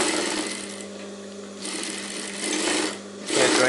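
A sewing machine stitching a sleeve patti, a fast steady mechanical whirr close up that speeds and slows in a few short runs with small dips between, no speech.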